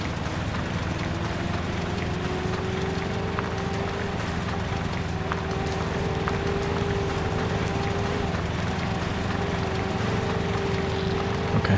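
An E-7429 truck engine in SnowRunner, a steady low drone with a slowly shifting tone as the truck strains in gear, continuous and fairly loud with no talking.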